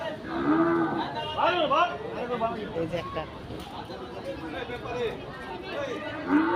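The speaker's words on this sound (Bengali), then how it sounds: "পাগলা গরু অনেক ভয়ঙ্কর" A large, fierce, agitated cow gives several deep, drawn-out moos close by, rising over a steady hubbub of people talking and other cattle at a busy livestock gathering.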